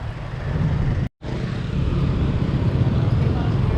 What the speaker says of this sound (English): pretty chaotic traffic